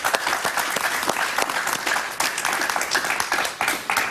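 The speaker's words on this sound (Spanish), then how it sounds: "Un aplauso para María Fernanda." Sustained studio audience applause on a late-night Spanish-language talk show, a dense steady wash of many hands clapping close and loud throughout, with no talk over it.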